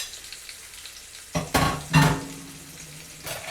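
Pieces of chicken dropped into a pan with a thin coat of hot olive oil burst into sizzling in two or three sudden surges over a quiet background, then settle into a softer fry.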